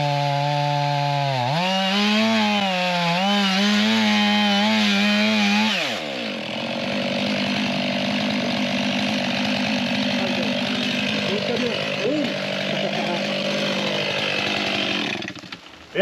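A chainsaw fells giant poplar trees, the engine revving and wavering loudly, then biting into the wood in a sustained, rough cutting drone that runs to the end.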